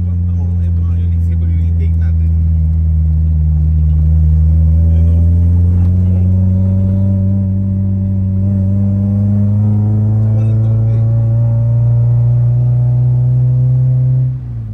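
A Honda D16A6 VTEC engine with an intake modification revs up and holds a steady, rising drone close by, loud and continuous for several seconds before dropping off at the end.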